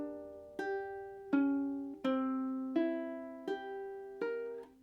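Ukulele picking measure 13 of a song, six clear plucked notes ringing out one after another at a slow, even pace, close and solo with no talking.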